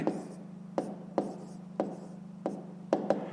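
A pen writes out a maths answer by hand, about seven quick, soft strokes ticking at irregular intervals over a faint steady hum, quiet and close with no talk.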